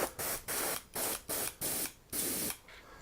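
An airbrush hooked to a compressor blows short bursts of air, about seven hissing puffs of roughly a third of a second each separated by brief silences, close and fairly loud with no talking.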